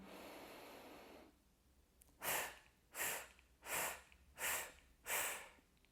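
After a fading hiss, five deep, close breaths follow in a regular rhythm, each one a soft airy rush, taken by a woman during a pregnancy breathing exercise.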